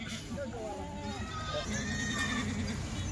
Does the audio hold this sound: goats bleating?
yes